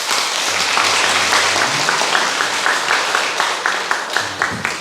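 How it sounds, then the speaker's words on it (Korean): Church congregation applauding to welcome new families at a Sunday morning service, sustained mid-distance clapping from many people, with a low voice speaking underneath near the end. "우리 박수로 환영하겠습니다."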